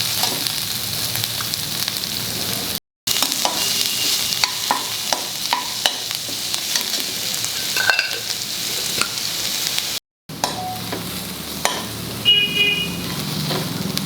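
Onion frying in oil with garlic sizzles steadily in a pan, a constant crackling hiss broken by scrapes and stirs of a spoon, with two brief dropouts in the sound.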